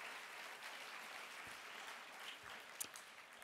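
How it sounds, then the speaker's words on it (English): Audience applause at a book awards event, a steady wash of clapping across the whole stretch, moderately distant and fairly quiet with a few sharper claps standing out near the end. "can we get another round of applause?"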